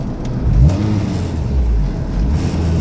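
A 1997 Acura Integra engine with an idle problem runs loud and close, a deep throbbing drone that swells slightly as it revs and then holds steady.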